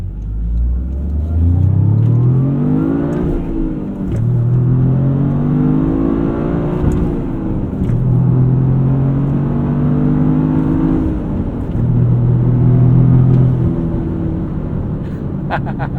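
A 2025 Toyota GR Corolla's engine revs hard and loud through repeated rising sweeps, climbing, dropping back and climbing again as gears change, with a deep rumble underneath and faint voices in the mix.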